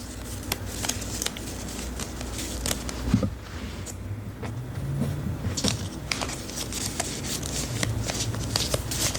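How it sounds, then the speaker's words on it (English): Rapid papery riffling and soft card slaps from a deck being shuffled close by, repeated in bursts over a faint background hum. "Okay, so these are shuffled."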